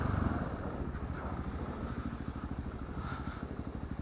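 A 2016 Husqvarna 701 supermoto engine thrums while riding, a steady low pulsing rumble close to the microphone with faint wind noise and no speech.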